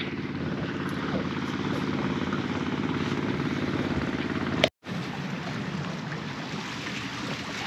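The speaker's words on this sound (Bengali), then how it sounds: "এই যে আমার সামনে দিয়ে যে মাছ ধরার ট্রলার চলে গেল" A steady low engine drone of a fishing trawler passing on the Naf River, continuous throughout with a brief dropout midway, waves and wind washing over it.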